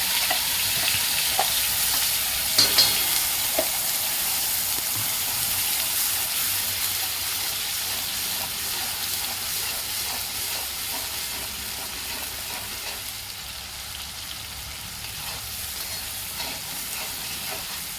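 Ground spice paste sizzles and fries in hot oil in a kadhai over a gas flame, a continuous loud crackling hiss with occasional stirring scrapes and no voices.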